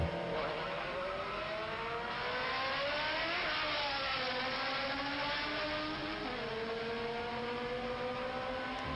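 A Honda race car engine with ported intake manifold accelerates hard, revs climbing steadily and shifting at its 10,300 RPM limit, a loud, continuous whine rising through the gears.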